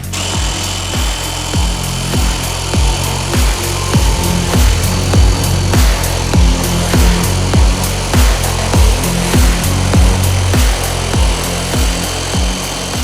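A new Retools scroll saw (jigsaw) slices through thin wood, its blade chattering in a fast, steady rhythm over a continuous motor whine, loud and close for the whole stretch with no talking.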